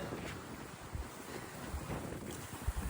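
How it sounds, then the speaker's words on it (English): Strong coastal wind buffets the microphone on an exposed Outer Hebrides shoreline, producing a faint, continuous rushing roar broken by soft low thumps of gusts, with no voices. "It's so windy."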